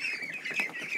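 Ducks in a barn give a close, steady run of nasal quacks and honks that overlap without a pause, with no talking over them.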